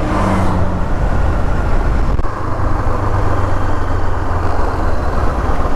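A ten-wheel truck rolls under a low bridge with a 3-meter height limit, its engine a steady, loud rumble held close for the whole stretch, with a short dip partway through.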